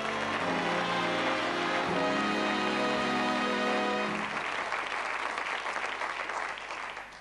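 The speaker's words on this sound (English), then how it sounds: "Round of applause." Studio audience applause on a 1988 British television memory show, a full dense round that carries steadily for about four seconds under a sustained musical tone, then thins and fades.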